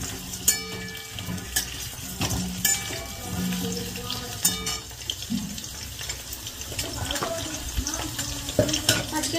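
Potatoes drop into hot oil and sizzle in a busy home kitchen, the frying crackle mixing with running tap water, clattering utensils and sharp knocks, while a voice speaks intermittently.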